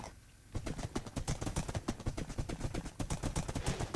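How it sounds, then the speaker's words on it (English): Horse hooves clip-clop while a horse is ridden in the video game Minecraft, a quick, regular run of close, crisp hoofbeats starting after a brief quiet moment. "I haven't ridden a horse in Minecraft in so long, since the Elytra came out"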